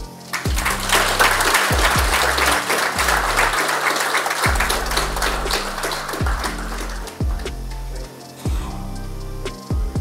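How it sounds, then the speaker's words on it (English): Steady applause from an audience at a Zoom judicial conference, with a low sustained hum underneath. "You've just received a very warm round of applause."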